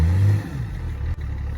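A Range Rover P38 V8 with a cracked exhaust runs and revs close up: a loud rising roar that drops back to a rough, steady idle.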